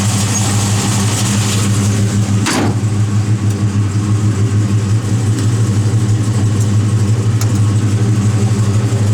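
The big block V8 of a 1971 Chevrolet Chevelle SS running with a mild cam, a loud, close, steady idle with a rhythmic lope and one brief blip partway through.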